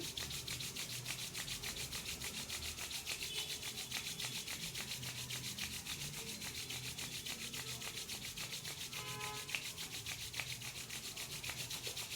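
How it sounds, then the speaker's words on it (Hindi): Hands rub together in a steady, continuous dry swishing during a Reiki meditation, quiet and close with no talking. "पुनः एक बार और हाथों को रगड़ लेंगे।"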